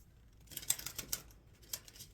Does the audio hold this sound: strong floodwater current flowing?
no